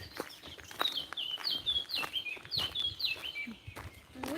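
Birds chirp repeatedly in quick, high tweets, several calls overlapping with light rustling and footsteps nearby.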